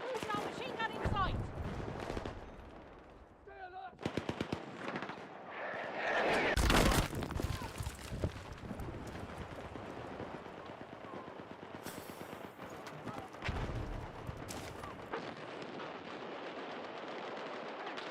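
Machine gun bursts in a shooter video game, rapid rattling volleys and sharper single shots mixed with heavy booms and scattered game effects, loud and close at times, with a voice speaking in places.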